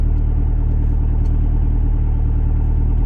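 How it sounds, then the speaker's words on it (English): A turbocharged Honda sleeper car, freshly repaired of an oil leak and running a full tank of E fuel, idles with a loud, close, steady low rumble throughout. "Seems like it's idling pretty damn good now."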